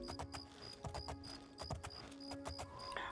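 Horse hooves in the video game The Elder Scrolls IV: Oblivion, a steady run of clip-clops with a galloping rhythm, quiet but distinct, under a faint game ambience with a brief bright chime near the end.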